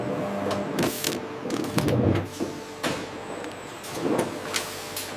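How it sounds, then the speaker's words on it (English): A vacuum sealing machine packs cut cheese portions in a cheese factory, its mechanical whirs, clunks and hissing air bursts repeating in uneven cycles over a steady industrial hum. "Vacuum sealing locks in freshness."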